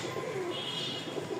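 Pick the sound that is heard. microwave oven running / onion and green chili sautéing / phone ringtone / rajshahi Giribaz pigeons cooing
rajshahi Giribaz pigeons cooing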